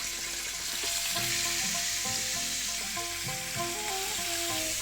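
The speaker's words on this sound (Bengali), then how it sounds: "একটা একটা করে মাছ তুলে ভাজতে দিয়ে দেবো।" Catla fish pieces frying in hot refined oil in a pan, a loud continuous crackling sizzle throughout, with soft background music playing beneath it.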